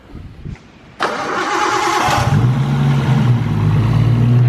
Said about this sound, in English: you guys can hear the response that we get from the ITBs and how quick that this setup spools